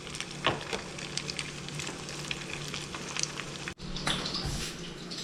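Crab cakes fry in hot canola oil with a steady, close, loud sizzle and crackle, briefly interrupted before resuming, with no voices.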